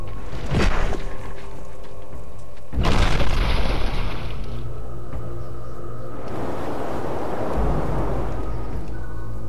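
Gusting wind in the video game Never Alone, rising in loud broad whooshing surges that swell and fade several times, with no voices.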